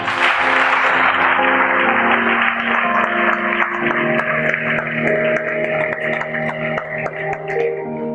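A church congregation applauding at a French-language service, a broad steady wash of clapping with sustained keyboard or organ tones underneath, fairly loud and continuous.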